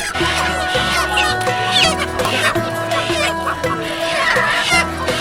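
Native chickens and ducks at a busy rural hill-country market, loud clucking and crowing layered over a dense crowd murmur with voices throughout.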